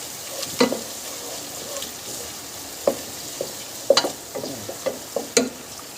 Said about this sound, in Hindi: ये हम प्याज के साथ ही डाल देंगे। इसके साथ ही ये अच्छे तरीके से भुन जाएंगे।